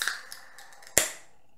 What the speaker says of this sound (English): That is the sound of the widget making that tap-like carbonation for this stout.